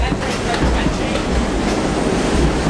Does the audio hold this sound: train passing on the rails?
yes